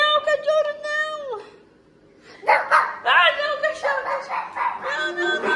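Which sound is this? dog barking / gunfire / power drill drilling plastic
dog barking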